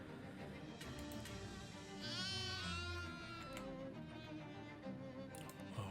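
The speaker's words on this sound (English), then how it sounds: "Why are you disguised as a sheep?" A sheep bleats in the video game Shadows Over Loathing, one wavering bleat in the middle over a steady bed of game music and ambience.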